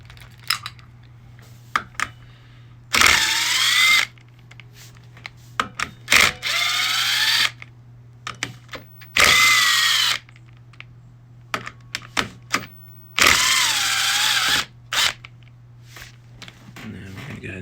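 A power tool backs out 8mm clutch cover bolts on a 2006 Suzuki DR200 SE, sounding in four separate whirring bursts of about a second each, with small metallic clicks and handling noises in between over a low steady hum.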